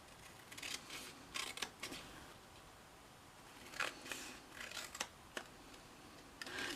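Paper trimmer slicing card stock for a shutter card, a quiet series of short scraping swipes and clicks in irregular bursts, close by with no talking.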